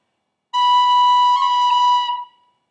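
A single whistle note held for about a second and a half, with a quick B roll of rapid finger taps rippling through the middle before it fades out. Close and clear, played alone with no talking.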